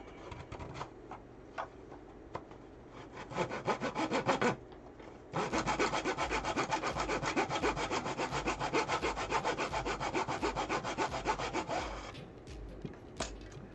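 A jigsaw cuts through wood for a sci-fi prop, first in a short burst and then in a long steady buzzing run that stops abruptly, with a few faint knocks and taps around it.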